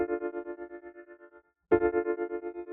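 A piano run through the Lunacy Audio Beam granular plugin, a held chord stuttered into rapid pulsing grains that fade, break off briefly, then return loud and repeating.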